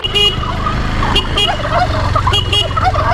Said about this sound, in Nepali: ओहो टर्की